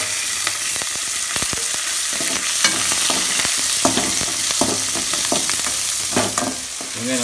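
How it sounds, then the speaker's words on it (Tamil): Small onions sauté in a pan with a loud, close sizzle. Repeated scraping and stirring clicks break in at irregular intervals over a constant hiss, and no one speaks. "உடனே வெங்காயத்தை போட்டு சின்ன வெங்காயத்தை போட்டு வணக்க ஆரம்பிச்சிருங்க."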